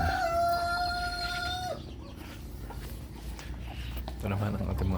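Upgraded native chickens cluck and a rooster crows up close in a backyard poultry pen, with someone speaking over the birds.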